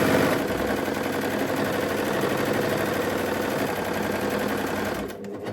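A serger sewing machine whirs steadily while stitching a circular Christmas napkin, a loud, close, continuous mechanical hum that cuts off near the end.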